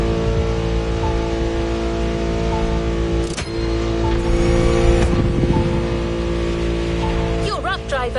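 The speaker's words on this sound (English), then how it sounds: "Your next killer partner, a 1970 Dodge Challenger." A 1970 Dodge Challenger in the racing game The Crew Motorfest, its engine running loud and steady throughout with a deep rumble and rising revs, close and dominant, with a few brief transient sounds near the end.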